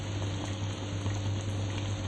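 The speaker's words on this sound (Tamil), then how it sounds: "இப்போ வந்து தண்ணி நல்லா கொதிச்சிட்ருக்கு" Water boiling in a pot with rice added for mushroom dum biryani; a soft, steady rolling bubble over a constant low hum, with no voices.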